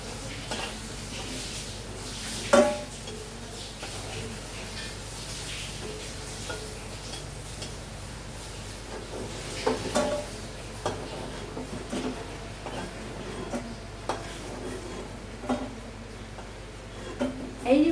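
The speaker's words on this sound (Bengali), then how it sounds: "এবার ধোকাগুলো লাল লাল করে ভেজে নিচ্ছি।" Dhoka lentil cakes frying in oil in a pan, giving a steady low sizzle at close range. Occasional utensil clinks and scrapes break through the sizzle.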